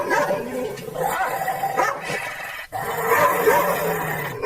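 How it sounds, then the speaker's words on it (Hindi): A dog barks repeatedly and excitedly nearby, with a few yips mixed into the rapid, loud bursts. "टॉमी उन पर भौंकने लगता है।"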